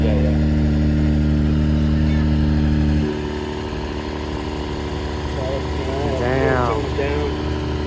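An Acura NSX fitted with downpipes and a straight-pipe exhaust idles with a deep, steady drone that drops to a lower, quieter hum after about three seconds, while someone talks over it.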